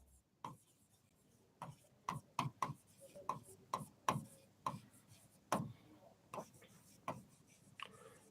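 A pen taps and scratches on paper while a math proof about sets and functions is worked out, making short sharp strokes in irregular bursts. They sound close but quiet against a near-silent room.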